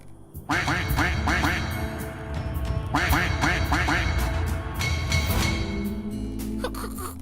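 A cartoonish duck quacks in the comedy graphic adventure game 3 Minutes to Midnight, loud repeated quacks in bursts over a busy game soundtrack.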